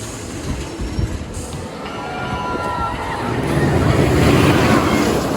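The Steel Vengeance roller coaster at Cedar Point rumbles past, its rolling roar building and growing louder over strong wind buffeting the microphone.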